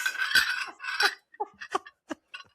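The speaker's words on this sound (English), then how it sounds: "Clink, clink, clink, clink. Do the whole episode with clinking." Glasses or cutlery clink near podcast microphones: a burst of rustling clatter, then a run of four or five sharp, bright clinks spaced apart, close and fairly loud.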